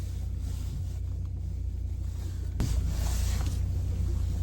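Two-wheel drive ute rumbling through paddocks, a steady low engine drone with occasional knocks and a sharp bump about halfway through, then slightly louder driving, no talking.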